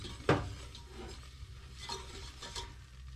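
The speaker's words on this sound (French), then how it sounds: "nous venons y ajouter la farine tout en mélangeant" Flour is stirred into melted butter in a pan. A sharp utensil knock opens the stretch, then comes a soft, low sizzle with scraping stirs and light clinks. No one speaks.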